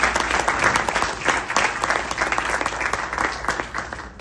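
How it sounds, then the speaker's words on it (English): Audience applause at a community gathering honoring a social worker, lively uneven clapping from a moderate crowd, close and fluctuating in intensity. "I want you to give a big round of applause"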